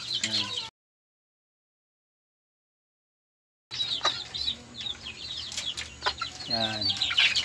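Chickens and young chicks in a small backyard coop: soft clucks, a rooster-like call and thin chick peeps, close by and continuous, broken by a stretch of total silence, with someone talking over parts of it.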